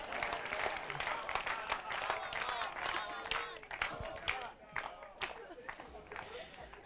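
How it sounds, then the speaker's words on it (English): An audience at a Rotary Club presidential installation in Mbarara claps for the outgoing president, scattered, uneven applause with whoops and crowd voices mixed through it. "Let us clap for our man."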